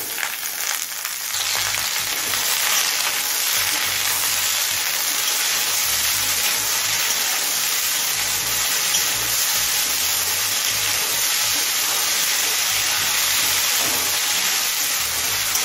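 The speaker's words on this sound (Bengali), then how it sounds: "কাঁচা লঙ্কা আর লাউটা দিয়ে সমস্ত সবজির সাথে আরও মিনিট 3-4 ভেজে নিলাম" Bottle gourd, slit green chillies, potato, radish and carrot frying together in a pan, a steady loud hissing sizzle that holds evenly for the whole stretch with faint stirring.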